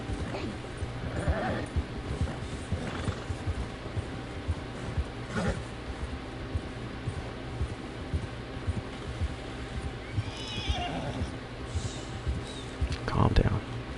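A horse in the video game Red Dead Redemption 2, steady galloping hoofbeats with an occasional snort or neigh, running throughout under a man's speech.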